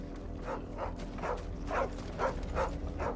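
In Final Fantasy 16, a brown dog gives a series of about six short whimpering yips at a steady pace, close and fairly clear over a low ambient hum.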